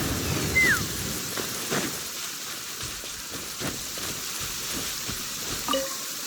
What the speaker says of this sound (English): Rain. My hair and feathers are gonna get soaked.